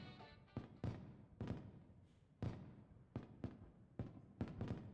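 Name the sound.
fireworks show hologram in video game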